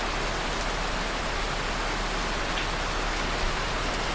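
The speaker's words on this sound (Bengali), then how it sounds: "যাকে বলে মুষলধারে বৃষ্টি।" Torrential monsoon rain pours down in Bandarban near Cox's Bazar, a loud, unbroken broadband hiss of heavy drops drumming on surfaces with no pauses.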